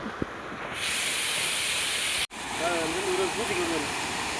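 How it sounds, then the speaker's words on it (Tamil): Strong, steady rushing of river water with a broad hiss at a reservoir, loud and continuous; a faint bird warble rises briefly near the end. "ஆற்றுல தண்ணி அதிகமாக தான் போகுது"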